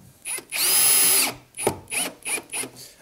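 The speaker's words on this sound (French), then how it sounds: "Alors, j'ai mis la première vis. Et là, je vais y mettre ma deuxième." Power drill driving screws into a wooden Bee Pass chimney beehive during assembly: one long loud whirring burst, then several short trigger bursts in quick succession, close by with no talk.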